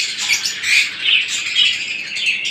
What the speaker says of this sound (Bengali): তারপর রয়েছে টিমিনো লাভবার্ড